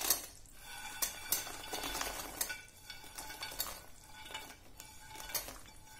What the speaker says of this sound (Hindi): और इसको मिक्स कर देंगे।